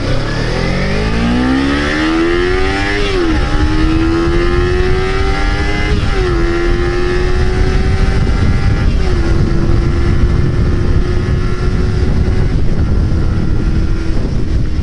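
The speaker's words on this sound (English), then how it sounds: "So that's how long it took me to get to 80, and that was in 5th gear." A Yamaha FZ-09 motorcycle accelerates hard up to 80 mph, its engine note climbing loudly with three quick gear-shift dips before holding a steady high drone in fifth gear.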